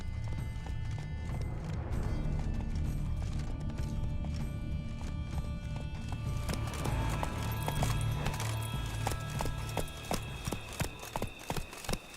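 Horses gallop with rapid, rhythmic hoof clip-clops and an occasional whinny in The Witcher video game, loud and continuous over a busy rumbling backdrop.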